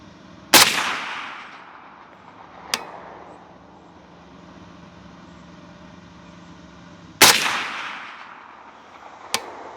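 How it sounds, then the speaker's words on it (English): Two loud, sharp rifle shots fired at a paper bullseye target during zeroing, each followed a couple of seconds later by a fainter crack, with quiet pauses between. "I'm gonna shoot at the lower of the 2 bullseyes"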